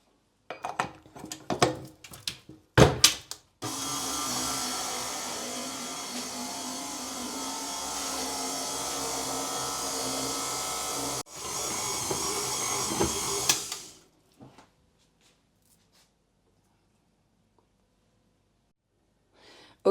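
A stand mixer fitted with a dough hook kneads sourdough bread dough, a steady loud motor whir with rhythmic churning running for about ten seconds with a brief dip midway, preceded by clattering handling and followed by near silence.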